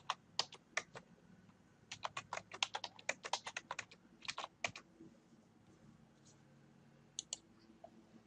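Keystrokes on a computer keyboard while entering chart figures into a Word 2013 worksheet, coming in quick bursts of close, crisp clicks separated by short pauses, with no talking.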